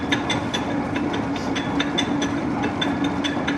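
A large Niles 24-foot bed lathe with a 25 HP drive and 40-inch swing runs steadily, a continuous mechanical hum with faint rhythmic clicking, close and fairly loud, no talk.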